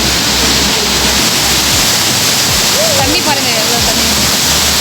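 Water pours over the Senbagathoppu dam near Thiruvannamalai, a loud, steady rushing roar that fills the whole scene, with birds faintly chirping over it.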